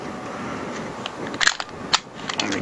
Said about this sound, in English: Open the slide, and I do it a few times.